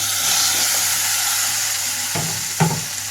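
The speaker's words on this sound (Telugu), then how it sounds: "ఇప్పుడు ఇందులోకి కట్ చేసి పెట్టుకున్న టమాటో వేసేసుకుంటున్నాను" Chopped tomatoes drop into a pan of frying ginger paste, giving a steady loud sizzle and hiss throughout, with a couple of brief stirring scrapes near the end and no voices.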